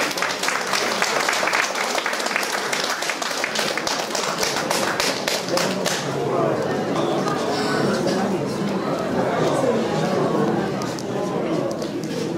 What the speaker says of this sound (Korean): 신랑 아버님을 큰 박수로 모시겠습니다.